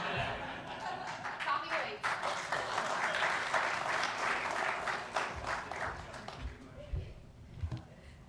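Conference attendees applaud Ashley's ARIN debut: a wave of clapping swells, holds for several seconds with scattered chuckles and murmuring voices, then tapers into a few isolated claps and low talk.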